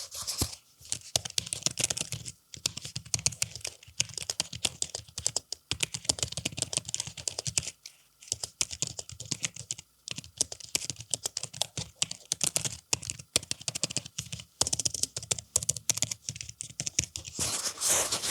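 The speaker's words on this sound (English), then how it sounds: "As you can hear, this is a proper physical keyboard with actually really good button presses" Rapid, crisp typing on a physical travel keyboard for a Samsung Galaxy Z Fold 5 close by, a steady clatter of key presses with brief pauses, no voices.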